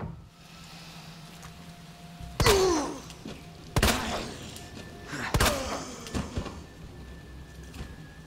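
Wooden boards are hammered over a window to barricade it in Resident Evil 2: three heavy, spaced thuds ring out against a quiet, low-humming room, each with a short creaking, groaning tail.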